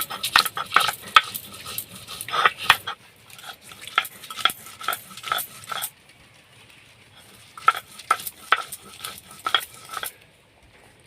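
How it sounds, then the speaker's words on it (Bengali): Green chillies are ground together with cumin, left coarse rather than fine: close, steady bursts of rhythmic scraping and knocking strokes, pausing briefly about midway and then resuming. "সঙ্গে কাঁচা লঙ্কাগুলো বেটে নিচ্ছি জিরার সাথে।"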